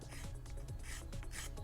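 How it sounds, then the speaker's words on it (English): A sanding stick rubs along the sharp edges and corners of a Boba Fett armor piece, giving quiet repeated rasping strokes, close and steady, with no voice. "using a file or a sharpening stick, sanding stick I should say"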